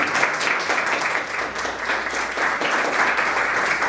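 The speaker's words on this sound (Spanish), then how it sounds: "un gran aplauso para los 4 profesores que nos acompañan" Audience at a panel discussion on reading gives a big round of applause for four professors, dense continuous clapping at moderate loudness that holds steady from start to finish.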